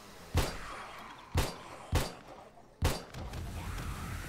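Four explosions from a 7 Days to Die multiplayer server session, Alpha 16, go off as sharp, booming blasts spaced about a second apart, each with a short rumbling tail and no talk.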